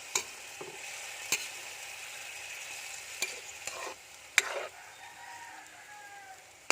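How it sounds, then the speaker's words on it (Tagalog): Chicken liver adobo stirred gently in a pan, giving faint soft scrapes and a few sharp utensil clicks over a quiet, low simmering sizzle. "So, mix lang natin, dahan-dahan lang para hindi madurog yung ating atay."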